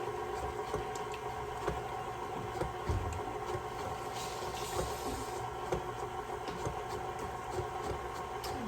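Electric mixer running through cookie batter for Easter bar cookies, a steady whirring motor hum with faint rhythmic clicks and rattles, continuous throughout.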